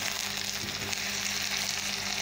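Tomatoes frying in a pan while being gradually stirred in, a dense continuous sizzle with soft stirring scrapes, close and steady.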